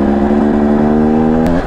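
A Husqvarna TE250i dirt bike engine revving hard while climbing a very steep trail, a loud close buzzing drone held steady at high revs, then dipping briefly near the end.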